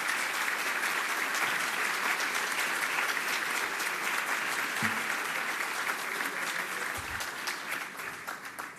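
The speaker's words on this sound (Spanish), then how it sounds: "Un aplauso para todos ellos, por favor." A crowd at a business event in Mérida gives sustained, even applause from a large room that fades slightly at the close, with no talking over it.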